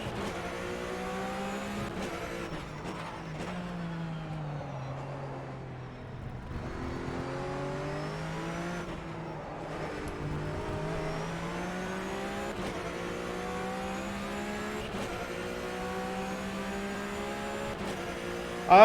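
A Porsche GT3 Cup race car in rFactor 2 drives hard, its engine note climbing and dropping through gear changes with brief lifts off the throttle, a continuous close in-car drone with no talking.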